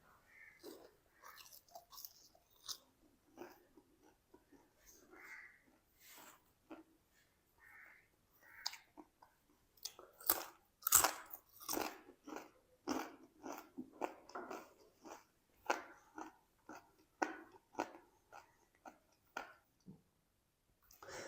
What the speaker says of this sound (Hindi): एक पीस ना हम खा के टेस्ट भी करते हैं।